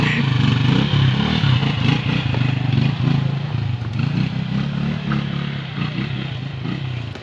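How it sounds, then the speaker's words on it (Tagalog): A motorcycle squeezes past a landslide in Songco, Lantapan, Bukidnon, its engine running loud and close with clattering and scraping over rough ground, while voices are faintly present. "Motor gi magalusot."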